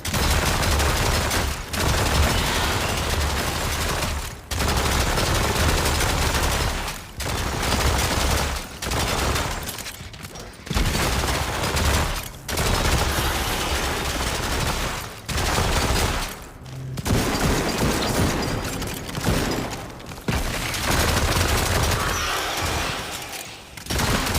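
Sustained bursts of light and submachine gun fire in a subway-level video game, loud dense volleys that drop out briefly every few seconds before resuming.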